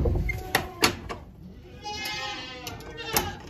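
Nanny goats in a farm pen, does getting ready to kid, bleat in a few close, wavering calls while a person talks over them.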